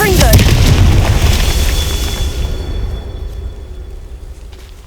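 A Confringo spell explodes in the Hogwarts Legacy video game with a loud, close boom and rumbling burst that fades away over several seconds, with voice present during the blast.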